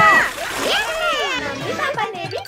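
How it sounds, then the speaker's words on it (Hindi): Cold bath water splashes in a Hindi cartoon, wet sloshing under excited, high-pitched cartoon voices that talk and squeal throughout. "ठंडे पानी से नहाने में तो कितना मजा आता है।"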